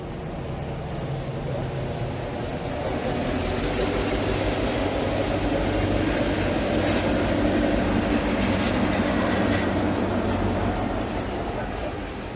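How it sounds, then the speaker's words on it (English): A train rumbles past on the old railroad at a former military proving ground, a steady, loud roar of wheels and cars with faint clickety-clack that swells and holds for the whole stretch without any talk. "there's a train coming"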